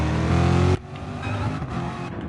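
GT3 race cars crossing the start-finish line at Suzuka in a racing video game, a loud engine roar passing close and then cutting off, followed by fainter engine drone and other cars further off.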